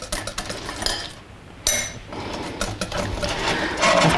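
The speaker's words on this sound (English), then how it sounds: "Now add in the sugar a spoonful at a time and beat it in." Icing sugar is beaten into egg white in a bowl, making a busy, irregular clatter of a utensil scraping and knocking against the bowl, loud and continuous with a short lull midway.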